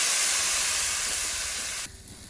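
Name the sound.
water added to hot pan of bean potato curry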